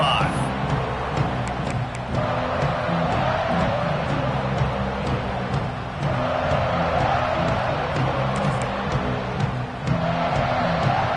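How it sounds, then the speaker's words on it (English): A football stadium crowd roars loudly and continuously, swelling in waves with cheers and yells. "This crowd ready to make its presence known."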